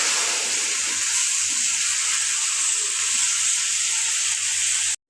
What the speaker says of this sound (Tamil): இந்த பதம் வந்தவுடன் நாங்கள் தக்காளி பழத்தை இதனுடன் போட்டு வதங்க விடுவோம்.